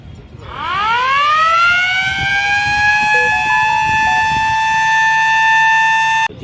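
Loud rooftop civil defense siren on a civil hospital in Tarn Taran, sounded for a mock drill, winds up from low to a steady piercing wail held for several seconds before cutting off abruptly.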